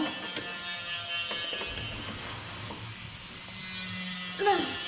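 An electric screwdriver drives a small screw with an intermittent thin buzzing whir, heard up close under children's and adult voices talking.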